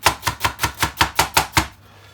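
Eight quick, evenly spaced knife chops through onions on a board in a steady rhythm, close and crisp, then a short quiet tail.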